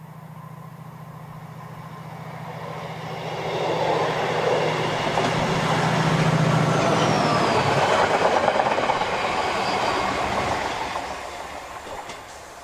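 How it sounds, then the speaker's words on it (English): Class 66 locomotive 66520 passes on a route learning run from Hartlepool Docks toward Tees Dock, a steady rising and fading rumble of wheels and engine drone that swells in the middle and recedes, with no voices. "Sixty-six 520 heads back to Tees Dock from Hartlepool Docks on a route learning run"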